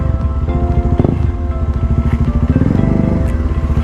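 Kawasaki Z1000 motorcycle engine rumbling close by as it pulls up, with a throaty, uneven exhaust note and some wind buffeting on the microphone.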